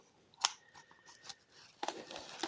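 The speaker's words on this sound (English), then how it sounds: "I'm just going to use some scissors to go ahead and cut this open." Scissors snip open a vacuum-sealed bag in a series of sharp, close, quiet cuts, a crisp snap followed by several softer clips and crinkles, with no talking.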